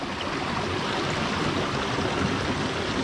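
A mountain stream pours down beside an acacia forest, a steady broadband rush of flowing water that stays loud and even throughout, with no voices.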